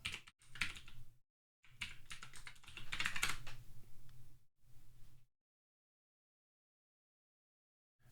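Typing on a computer keyboard in bursts of rapid close clicks, broken by short pauses and ending in a long silence.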